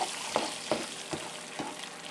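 Pork simmers in a pot of water for a puto pao filling, giving a steady bubbling hiss broken by soft, regular knocks and pops about every half second.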